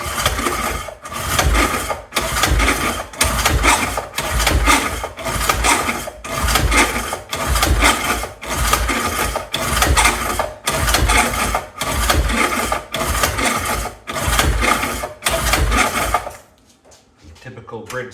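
A 1975 Briggs & Stratton 3 hp small engine, choke on, is cranked over and over without catching: about sixteen evenly spaced, loud rasping pulls in a steady rhythm, then a short quieter stretch at the end.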